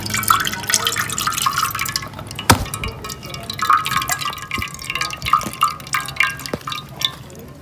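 Thick sugar syrup from amla candy drips and trickles steadily through a sieve, with a few sharp taps and knocks from utensils, close by and without voices.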